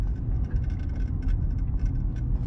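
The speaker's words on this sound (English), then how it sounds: "this car has this hum to it, and it gets louder as you go" A car with tires worn into a wavy, cupped pattern rolls slowly down a street at low speed, giving a steady low rumbling hum with a faint whine above it, continuous and close throughout.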